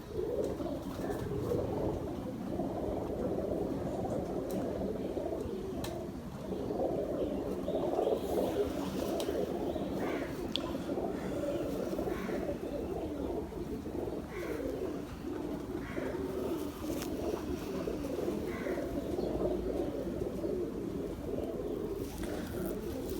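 Pet pigeons of a prized flying breed coo softly and repeatedly, a low murmuring chorus of several birds with faint chirps, steady throughout and without talk.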